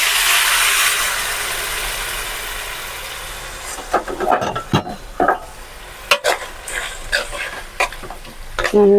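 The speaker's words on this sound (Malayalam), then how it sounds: "നേരത്തെ വേവിച്ച് വെച്ച നമ്മളെ മട്ടണായത് അതിലേക്ക് ചേർക്കുന്നുണ്ട്" Pre-cooked mutton for a Kerala mutton varattiyathu hits a hot pan with a loud, hissing sizzle that gradually settles, followed by irregular scraping strokes of stirring against the pan.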